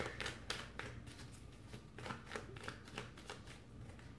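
Tarot cards, a Rider-Waite style deck, are shuffled and drawn in a quiet room: soft repeated papery flicks and slides, faint and close, in an uneven rhythm.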